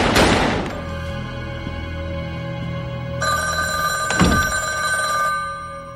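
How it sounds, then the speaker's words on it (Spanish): A telephone bell rings steadily with sustained metallic tones in The X-Files, joined partway through by a brighter electronic ring, fairly loud with no voices. "En aquellos instantes suena el teléfono."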